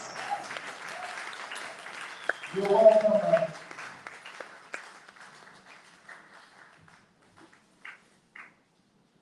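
Audience applause at the INSPIRE EDO 2023 event, moderately loud and tapering into scattered claps and silence, with a voice briefly speaking over it near the middle.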